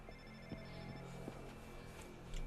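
A phone rings in the video game Infamous First Light, a repeated electronic ring playing steadily at moderate volume over a low ambient game background, with no talking.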